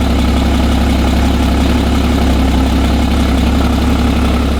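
A running Porsche engine with only 9,000 miles, on a wrecked car being repaired, idles steadily with a low, even rumble throughout, close and loud with no talking.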